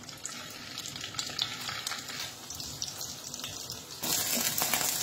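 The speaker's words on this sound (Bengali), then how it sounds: "সসেস আর চিকেন বলগুলো" Sausages and chicken balls fry in hot oil, giving a steady close crackling sizzle that jumps louder and denser partway through.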